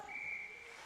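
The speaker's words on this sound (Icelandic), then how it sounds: "Það flautað." Referee's whistle shrilling in a men's top-division ice hockey game, one steady blast just under a second long, loud over the arena's background noise.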